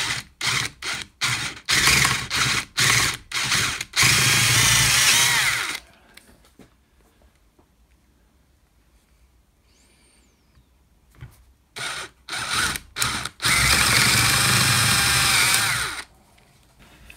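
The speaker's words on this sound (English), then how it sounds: "So let's drill them out to 7mm" A power drill bores 7 mm holes for rivet nuts in a drill-press rear cover, starting with short loud bursts, then a sustained run, a quiet pause, and another round of pulses and steady drilling.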